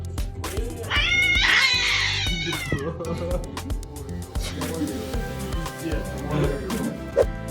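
A cat lets out a drawn-out meow over background music and other sounds, the call rising and wavering for about a second before fading under the continuing music.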